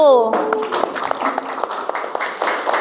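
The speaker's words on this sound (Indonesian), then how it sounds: "Kita beri tepuk tangan ya untuk kelompok 1." Junior high school students applaud a student group in a classroom, scattered claps following a short stretch of speech at the start, with voices mixed in.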